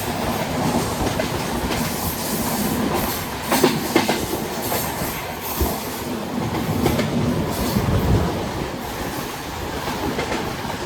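Passenger train running on rails near Warangal in Telangana, on a journey toward Ongole, with a steady close rumble of wheels and repeated clickety-clack bursts across the rail joints, continuous throughout, with no talk.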